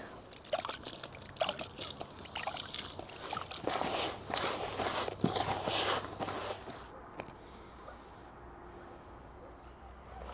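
Water trickling and splashing as it is poured into a bowl of millet and pea fishing bait mix outdoors by a river, an uneven close splashing that fades into quieter dribbles and handling.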